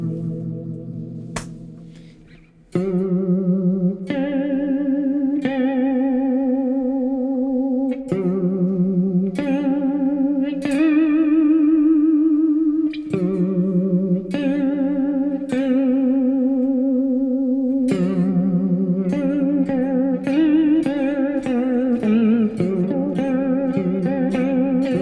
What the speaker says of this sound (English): vibrato.